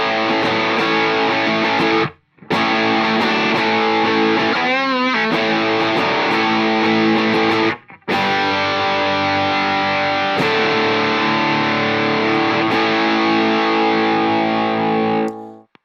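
Heavily distorted electric guitar through an MXR Classic Distortion pedal plays sustained chords, breaking off twice with short silences before ringing out again, loud and close.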